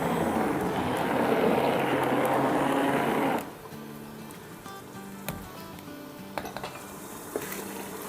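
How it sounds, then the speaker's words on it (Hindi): Onion, ginger, garlic and green chillies sizzle loudly in hot oil in a large catering pot for haleem. The sizzle fades after a few seconds, leaving scattered clinks and scrapes of a spoon stirring against the pot. "बस यहाँ प्याज, अदरक, लहसुन और हरी मिर्चें फ्राई हो रही है।"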